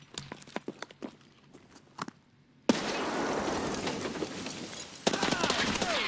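Rapid gunfire in the shooter game Escape from Tarkov: a scatter of sharp single shots first, then a dense, loud burst of sustained automatic fire with a second surge near the end.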